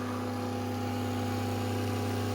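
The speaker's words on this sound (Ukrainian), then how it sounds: "Так, включив я генератор." Generator switched on and running during a transformer winding test, giving a constant steady hum with strong low tonal drone, loud and unbroken throughout with no voices.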